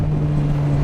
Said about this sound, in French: Et le pot il fait un de ces bruits.